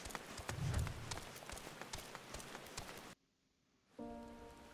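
Rain patters steadily on surfaces in a fantasy video game, with rhythmic thudding steps mixed in. It cuts to near silence after about three seconds, then other game sounds return.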